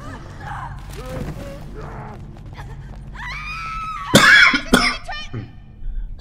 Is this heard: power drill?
no